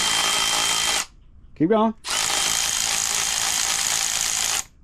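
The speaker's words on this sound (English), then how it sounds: "You just removed the bolt. You just used your first power tool, right?" Power tool, likely an impact driver, removing a bolt on an MF65 tractor: two long loud whirring runs split by a short pause in which someone speaks briefly.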